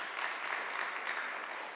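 Steady applause from a church audience fills the space, a dense even patter of many hands clapping without pause, moderately loud and close throughout.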